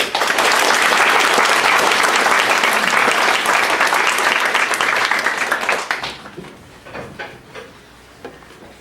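Audience applause welcoming distinguished congressmen at an American event: loud, sustained clapping from a large crowd that fills the first six seconds, then thins out into a few scattered claps.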